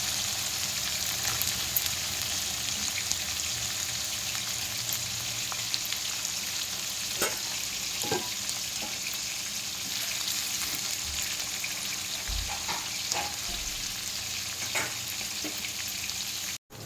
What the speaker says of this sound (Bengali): এবার দিয়ে দিচ্ছি কেটে রাখা পেঁয়াজ।